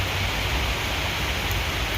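Steady, dense hiss of rain falling on greenery and an open field, constant and enveloping with no pauses.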